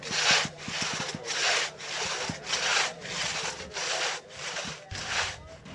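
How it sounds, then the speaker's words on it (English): Hand saw cutting through a log with steady rhythmic strokes, about eight rasping push-and-pull passes in even succession, close and clear with no talking. "as the saw goes through the log, it drops to the ground"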